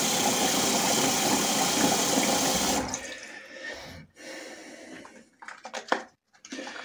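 Running cold water splashes steadily for a few seconds as a face is rinsed, then stops, followed by scattered drips and soft wet splashes nearby.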